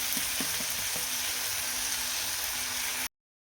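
Tomatoes sauté in oil over a low gas flame as a steady, close sizzle with a few soft stirring taps near the start, then the sound cuts off abruptly at the end.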